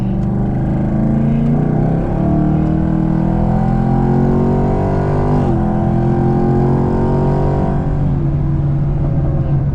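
A Chevrolet Camaro 2SS V8 weaving through traffic roars loudly and continuously from inside the cabin, with repeated rising pitch sweeps as it accelerates through the gears and brief dips at each shift.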